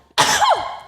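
A single sharp, loud sneeze bursts out close by, an abrupt explosive onset trailing into a short falling vocal tail before quiet returns.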